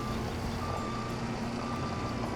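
Steady reversing beeps from a simulated truck in Farming Simulator 25, repeating evenly over a continuous low engine drone, loud and without speech.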